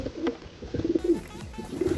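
Pigeons cooing in a racing-pigeon loft, their low repeated coos coming in several soft bursts across the clip over faint background rustle.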